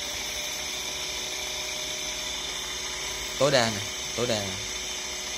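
Homemade servo-driven six-bit gang drill for aluminium, run at about 30% throttle, a steady high-pitched motor whine throughout, with someone speaking briefly over it near the end.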